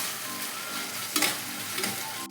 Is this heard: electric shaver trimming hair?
no